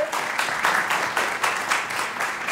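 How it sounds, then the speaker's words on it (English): Conference attendees at a Social Security retirement-income event give a moderate, steady round of applause with a slightly pulsing rhythm, heard from within the room. "Please give her a round of applause."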